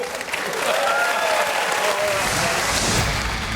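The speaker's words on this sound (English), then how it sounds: "we'll take a roll of applause for the legends coming up next" A studio audience at a televised Australian football talk show breaks into loud, sustained applause, with cheering building toward the end.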